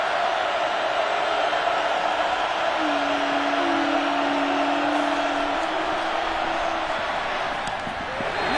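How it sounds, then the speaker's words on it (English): A college football stadium crowd during Miami at Cincinnati roars loudly on third down, a steady, dense wall of cheering and noise that holds for several seconds with a sustained tone running through the middle. "crowd getting loud"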